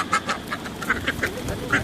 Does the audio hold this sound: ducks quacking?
yes